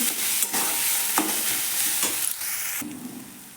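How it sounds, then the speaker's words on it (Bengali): Cumin and coriander powder are sautéed in a pan: a steady sizzle with a few sharp scrapes and stirring knocks of a spoon against the pan, close and fairly loud, fading slightly toward the end. "জিরে ধনে গুঁড়ো ভালো করে কষিয়ে নিচ্ছি"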